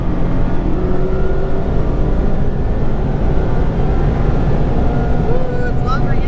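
A 2020 Mazda Miata engine accelerating in second gear, a loud, steady, close drone of engine and road noise held throughout, with a faint voice underneath.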